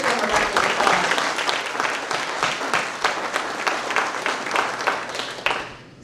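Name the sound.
audience applause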